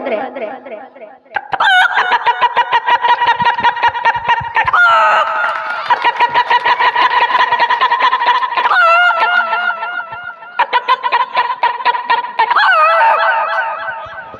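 A human voice loudly imitates a rooster, crowing over and over in long wavering calls with short breaks between them.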